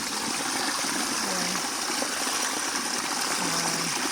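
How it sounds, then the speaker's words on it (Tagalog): Irrigation water rushes and gurgles steadily throughout on an olive farm in Cyprus, a continuous close flow with a faint low hum in the background. "Ito naman yung tubig. Ito ang huling patubig namin sa araw na to."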